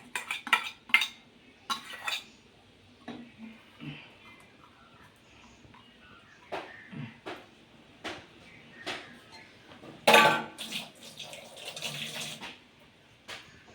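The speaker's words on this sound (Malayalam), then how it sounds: "നല്ലവണ്ണം ഒന്ന് മിക്സ് ചെയ്യണം കേട്ടോ" A spoon stirs curd into mango pulissery in a pot, giving irregular metallic clinks and scrapes at close range, with short pauses between strokes.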